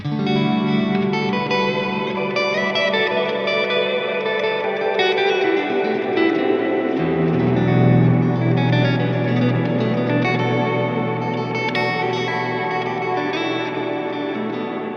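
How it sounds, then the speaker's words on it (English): Electric guitar chords washed in heavy reverb and echoing delay, with sustained notes blurring into a dense, continuous wall of sound, played alone. "So if I want to have a lot of reverb like this is what will happen."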